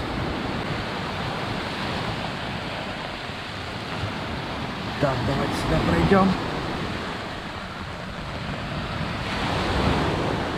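Sea waves breaking on a beach in Sudak, Crimea, in rough off-season weather, a steady broad wash of surf with wind buffeting the microphone and a brief louder surge midway, under a voice speaking.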